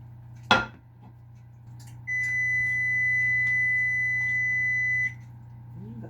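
An oven signals it has finished preheating with a single sustained electronic beep lasting about three seconds, preceded by a brief clatter of a pan, all over a low steady kitchen hum.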